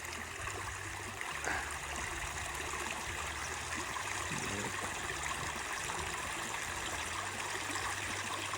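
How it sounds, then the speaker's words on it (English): Turquoise stream water rushing steadily at a stream crossing in Iceland, a constant broadband wash of flowing water close by with no clear pauses. "Stream crossing."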